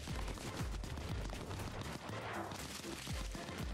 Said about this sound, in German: Da hinten sind Schüsse.